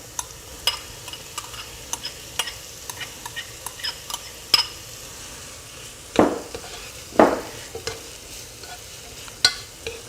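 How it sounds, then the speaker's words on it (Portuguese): Bell pepper being slowly sautéed in a pan for a lentil stew: a soft, continuous frying sizzle punctuated by irregular spoon scrapes and clinks against the pan, with no one talking. "e ir refogando isso aqui devagarinho, muito lentamente"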